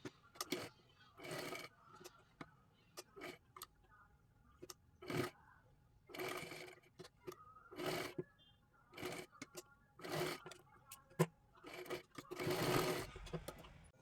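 A sewing machine stitches lace along the edges of cloth for a puja plate cover made from blouse pieces, running in short repeated bursts of rattling stitches separated by pauses.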